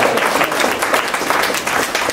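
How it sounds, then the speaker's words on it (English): A meeting audience gives a close, loud round of applause for a presenter, many hands clapping steadily for about two seconds. "Give her a round of applause,"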